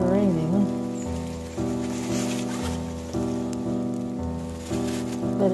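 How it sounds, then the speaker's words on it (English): Freezing rain pattering steadily on surfaces during a Texas winter storm with ice and sleet, a continuous close wash of drops under a low hum, with brief faint voice-like tones near the start. "It's still raining,"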